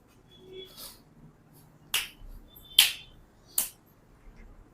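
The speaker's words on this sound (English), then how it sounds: "I click." Four crisp finger clicks ring out one at a time, spaced about a second apart, close and sharp against a quiet, faintly hissy room.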